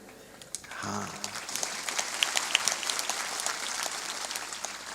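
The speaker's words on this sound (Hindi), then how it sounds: "ये तो यहाँ ताली बजाने की हम ट्रेनिंग देते हैं" Audience clapping in unison during a spiritual discourse, dense steady applause that starts after about a second and continues loud throughout, with no voices over it.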